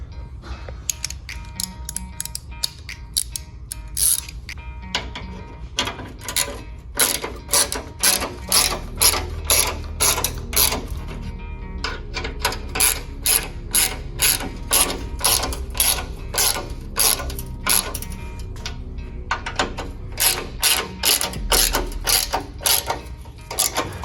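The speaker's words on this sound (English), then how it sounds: "Then you go ahead and just tighten them up just a little bit more with a ratchet" A hand ratchet tightens the mounting bolts of a Rigid fog light on a Ford Bronco stock bumper, giving bursts of sharp, rapid clicking, close and loud, with brief pauses between strokes.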